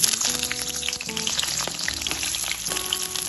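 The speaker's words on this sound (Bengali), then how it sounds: "এখন আমি এর মধ্যে কেটে রাখা পটলগুলো দিয়ে দিলাম" Sliced pointed gourd fries in hot mustard oil, giving a steady dense sizzle with crackling pops, close and constant throughout.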